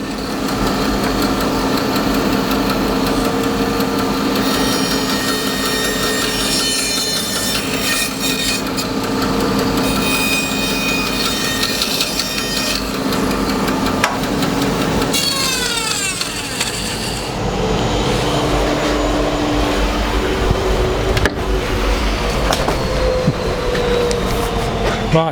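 Big bandsaw with a wide 20 mm blade cutting bowl blanks from a half log, a loud continuous motor hum and blade whine with shifting cutting noise as the curve is worked, no talking.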